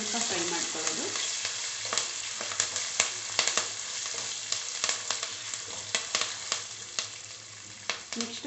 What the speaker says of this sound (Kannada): ಕರಿಬೇವು, ಗುಂಟೂರು ಬ್ಯಾಡಗೆ ಮೆಣಸಿನ್ಕಾಯಿ ಇಷ್ಟು ಹಾಕ್ಕೊಂಡು ಲೋ ಫ್ಲೇಮಲ್ಲಿ ಸ್ವಲ್ಪ ಫ್ರೈ ಮಾಡ್ಕೊಳ್ಳೋದು.